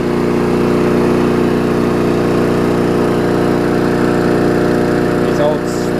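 An old Sprint 3.75 horsepower push mower engine runs loud and close at a steady, even drone, with a brief shift near the end.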